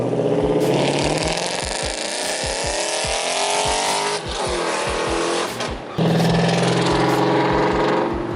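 A truck drives close by with a loud engine that climbs steadily in pitch, dips briefly at a gear change and surges again, with no talking over it.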